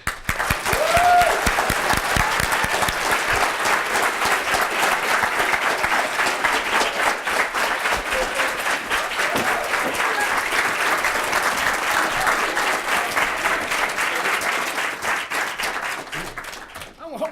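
An audience at a reading welcoming authors Stephen King and Andre Dubus bursts into sustained, dense applause, with many hands clapping loudly and evenly for well over fifteen seconds before tapering off at the end.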